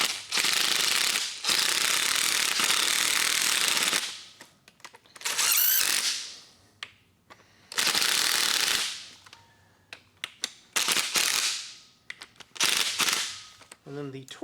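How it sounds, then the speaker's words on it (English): An impact wrench runs down water pump bolts on a Ford V8 in loud, long bursts, then shorter rattling hits, with quiet gaps between them. "get my impact wrench here, and I'm just going to bring them down to touch in a cross pattern"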